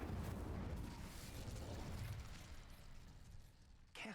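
The Incendio fire spell from the Hogwarts Legacy video game bursts out as a broad, roaring whoosh of flame that fills several seconds, then fades before a short sharp sound at the end, with no talking over it.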